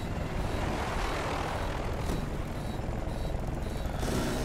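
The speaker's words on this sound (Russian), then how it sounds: "это второй вертолет" A helicopter in Battlefield Bad Company 2 roars steadily overhead, a thick broadband rotor and engine rumble filling the whole stretch, loud and close with no talk.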